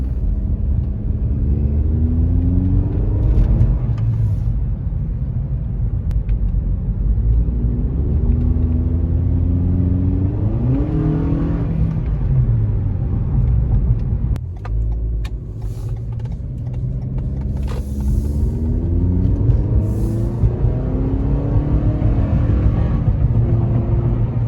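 An 8th-generation Toyota Camry fitted with a Borla cat-back exhaust revs repeatedly over a steady low engine rumble, with several rising and falling sweeps heard loud and close.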